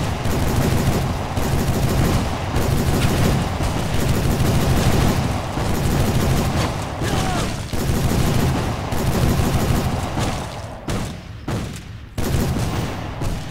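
Gunfire in a Civil War: Secret Missions video game shooting gallery: dense, continuous volleys of rifle shots crackling close and loud, thinning out near the end.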